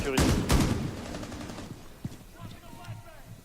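Gunfire in the video game Rainbow Six during close beta play, a loud rapid burst of automatic shots up front, then quieter scattered reports and fading echoes, with players talking over the action.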